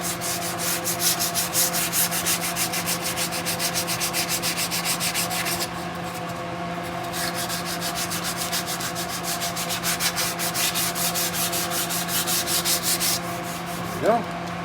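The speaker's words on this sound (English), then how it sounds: "Get the lines all sanded down and get the wood clean" A wooden guitar neck being sanded by hand, steady rhythmic back-and-forth rasping strokes close up, with a brief pause partway through before the strokes resume, then a small knock at the end.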